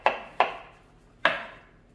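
Three sharp knife chops cut mushrooms on a cutting board in a home kitchen, two quick strikes and then one more after a short pause, close and crisp with nobody talking.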